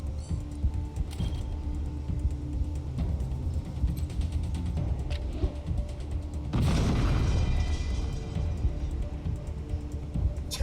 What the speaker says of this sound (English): It's a confetti grenade!